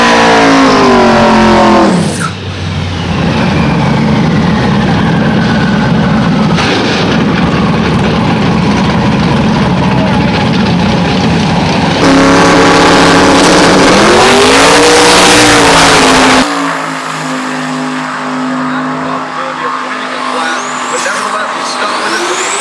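Twin-turbo 1500 hp Camaro street machine running loudly close by, its engine droning and rising in pitch with revving surges, a brief break near the middle, then settling to a steadier idle.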